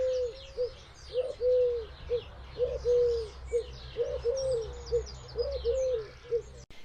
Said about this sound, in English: if you listen to the collared dove, you can hear that it goes round and round